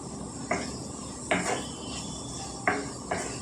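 Carrot and potato pieces fry in a pan with a steady background sizzle, broken by four sharp utensil knocks or scrapes against the pan spaced about a second apart.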